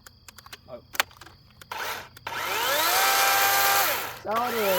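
A Husqvarna chainsaw runs with its chain spinning on the bar: after some scattered clicks and handling noises it revs up into a rising whine, holds a steady high speed, then winds down.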